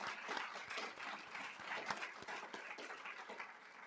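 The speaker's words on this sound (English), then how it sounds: "how about a great round of applause?" An audience at a memorial celebration breaks into steady applause, many hands clapping in a dense, sustained patter that holds for the whole stretch, fairly distant and even.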